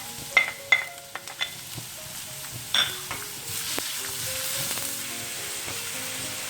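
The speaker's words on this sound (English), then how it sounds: "The oil has become hot. Let's add ginger, garlic, and big onion finely chopped." Chopped ginger, garlic and big onion dropped into hot oil in a pan, opening with a few clattering stirs and then settling into a steady, close sizzle, no talk.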